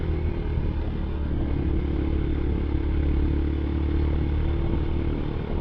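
Yamaha SZ 150 motorcycle on a road ride in Carmona, Cavite, giving a loud, steady engine drone with constant road and wind rumble throughout and no talk.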